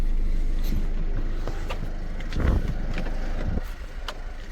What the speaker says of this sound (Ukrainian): Прекрасно заводиться, мотор працює як часики.